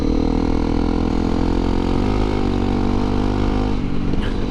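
Honda CRF250L Rally dual-sport motorcycle ridden along a trail, its single-cylinder engine droning steadily up close at a constant throttle, with a slight dip in pitch toward the end and no talking.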